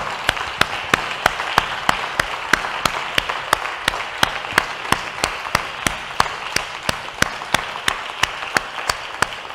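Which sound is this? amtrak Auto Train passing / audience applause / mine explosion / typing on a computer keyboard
audience applause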